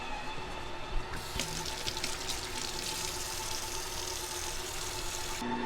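A kitchen sink tap runs steadily as hands are washed near an ice cream maker. The water makes a continuous, moderately loud hiss and splash that starts and stops abruptly, with no speech over it.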